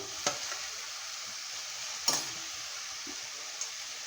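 Baby fenugreek leaves are stirred into lightly browned onions in a pan, producing a faint sizzle with a few distinct scrapes of the spoon spaced across a quiet background, no talking.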